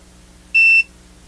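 ToolTop ET829 scopemeter giving a single short, clear, high-pitched electronic beep as it powers on, close and isolated over quiet background hum.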